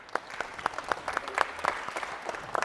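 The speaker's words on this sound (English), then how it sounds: "One more clap." Brief applause from an audience at a primary-school presentation competition, a moderately distant patter of many hands with a few sharper individual claps standing out.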